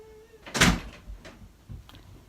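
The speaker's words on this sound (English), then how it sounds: "close the door" A door swings shut indoors with a soft, muffled thud, followed by a couple of faint knocks and rattles, fairly close and alone.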